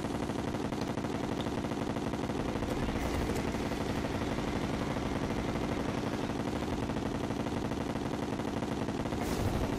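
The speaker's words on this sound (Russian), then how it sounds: "Мои вот эти самонаводящиеся выстрелы должны попадать." Dense, continuous barrage of rapid homing shots in Terraria during the Moon Lord boss fight, loud and unbroken throughout, with no talk.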